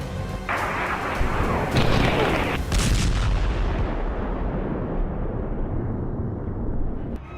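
Heavy bombing and artillery fire on Hezbollah positions in Beirut, Lebanon: a dense, continuous roar of blasts and rumbling booms with sharper thumps rising out of it early, loud and sustained throughout.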